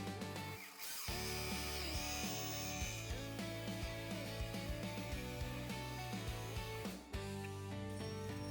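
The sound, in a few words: corded electric drill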